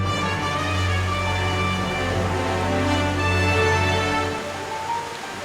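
A river flows steadily near the listener with a continuous rushing, splashing wash, loud and even throughout, with a low rumble beneath; no voices are heard.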